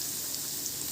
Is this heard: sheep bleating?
no